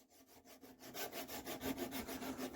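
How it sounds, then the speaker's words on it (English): A metal file rasps across a flat ground onto an engine pulley, in quick regular back-and-forth strokes, close and fairly quiet, growing slightly louder as the filing continues. "We're just going to make sure it's dead flat by going over it with a file."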